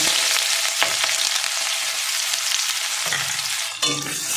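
Crushed garlic and green chili fry in hot oil, a loud continuous sizzle close by with a few scrapes of a spatula stirring the pan and one sharper clatter near the end.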